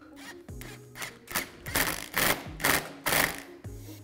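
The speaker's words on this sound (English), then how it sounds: "The first two I'm gonna tighten down are these here by the throttle body using an 8 millimeter socket" An 8 mm socket tightening band clamps on a cold air intake by the throttle body of a 2020 Jeep Gladiator, a series of close, rhythmic ratcheting bursts with brief pauses between them, no talk.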